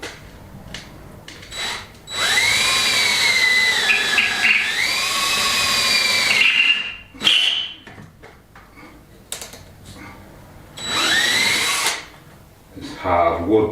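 A power drill boring through a hardwood door, whining in several bursts of a few seconds each with rising and falling pitch, loud and close, separated by short pauses.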